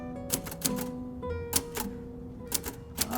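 Typewriter keys being struck on a manual machine, irregular clusters of crisp mechanical clacks with a faint ringing tone between them, close and moderately loud with no talk.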